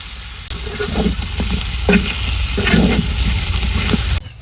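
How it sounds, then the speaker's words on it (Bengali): Potatoes frying in a pan with turmeric, salt and chili powder, a loud, steady close sizzle broken by a few stirring scrapes, ending abruptly. "আলু ভেজে একটু হলুদের গুঁড়ো লবণ আর মরিচ দিয়ে দিন"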